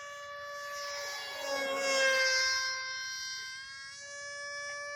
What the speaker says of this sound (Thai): เครื่องบินบินดีเลยนะฮะ